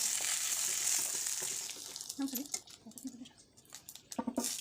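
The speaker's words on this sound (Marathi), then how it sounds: "याच्यामध्ये परतून घेत आहे मी तेलामध्ये कढीपत्ता टाकला आहे" Curry leaves, garlic and coconut sauté in hot oil, opening with a bright crackling sizzle that fades into softer frying and stirring noises, close by and fairly quiet.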